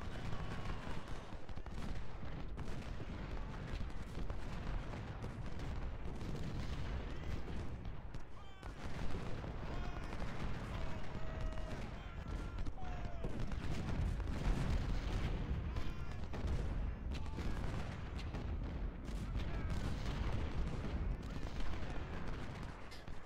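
Heavy booming cannon blasts in Ultimate General: Civil War, at the Sanders Farm battle, fire again and again over a dense rumble of battle noise, with scattered gunfire mixed in.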